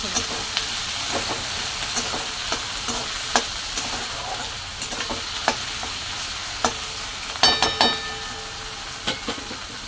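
Tomato, green chillies and onion sautéing in a pan for a fish fry and fenugreek greens meal, with a steady hiss and sizzle, occasional spoon stirs and a few sharp metallic clinks near the end.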